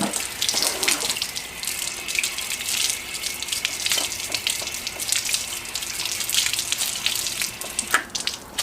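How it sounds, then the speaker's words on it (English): Water from a hose soaks a microfiber towel while washing a car at home, a steady broadband hiss and splash that runs loud and unbroken for the whole stretch, with occasional sharper spatters and no talking. "get your hose or your pressure cleaner and soak it"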